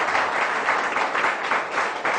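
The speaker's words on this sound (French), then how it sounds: "les applaudissements du public ne trompent pas" A studio audience at a televised Ivorian political debate show applauds steadily, a dense, continuous wash of clapping that holds at an even, fairly loud level throughout with no voices over it.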